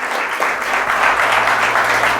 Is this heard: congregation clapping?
yes